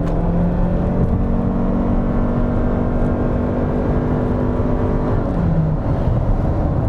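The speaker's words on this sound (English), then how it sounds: "That hybrid system kicks in and the car moves." A 2021 Toyota Sienna Limited hybrid minivan accelerates from inside the cabin, a steady rising whir and road rumble that stays fairly loud and constant with no talk.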